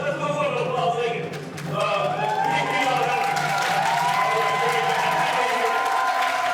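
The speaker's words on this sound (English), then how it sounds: "Let's do a little applause again" A college audience at a ceremonial visit by a Ghanaian king claps and cheers, a broad crowd wash mixed with voices and a rising tonal sound, steady after a brief dip.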